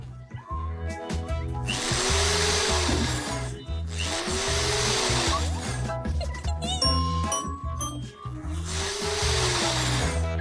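A power drill drives screws into a bed frame in repeated whirring bursts of a couple of seconds each, heard over steady background music.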